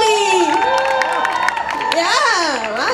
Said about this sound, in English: Wow, you get a lot of cheer.